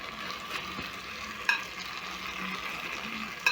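Rabbit pieces and their juices tipped back into a stew pot, setting off a steady moderate sizzle with two brief metallic clinks from a utensil against the pot.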